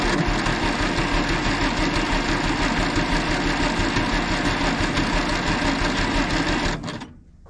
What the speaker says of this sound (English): So this is a genuine cold start.